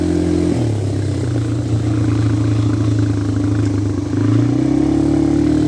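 A four-wheeler ATV engine drones loudly and steadily while engine braking downhill, its pitch dropping and holding low before climbing again near the end, close and alone with no talk.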